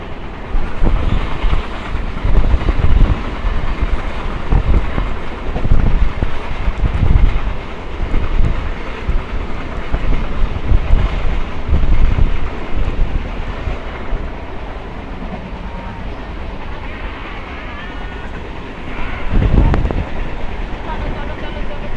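A Sealdah–Diamond Harbour galloping local train rumbles steadily along the rails with rhythmic clatter and wind noise, loud and close throughout.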